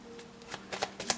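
Tarot cards being shuffled for a reading, a handful of quick crisp riffling flicks close up, irregular and soft against quiet room tone.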